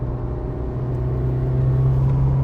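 A 2023 Honda Civic Type R driving on the Mandalika circuit, its engine a steady, loud, droning rumble that stays even throughout, heard from inside the car.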